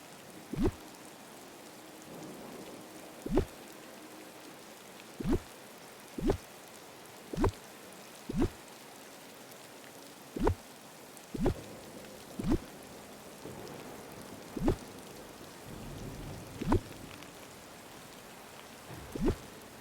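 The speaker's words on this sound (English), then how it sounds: "How do you feel about the rain in game?" Rain in the Disney Dreamlight Valley video game falls as a soft continuous patter, punctuated roughly every second or two by sharp, louder drip-like taps.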